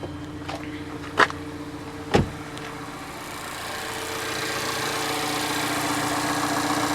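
A 2018 Mazda 3 engine idles steadily and fairly close, a smooth low hum that swells slightly toward the end, with a couple of sharp clicks early on.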